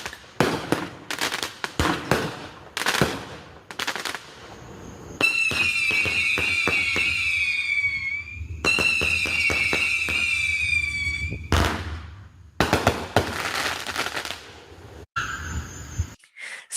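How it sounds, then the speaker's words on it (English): Fireworks go off just outside a front door: rapid loud pops and crackles in irregular bursts, with two long whistling, screeching stretches in the middle and quieter gaps between volleys, and no talk. "pop out the front door and see fireworks like that going off"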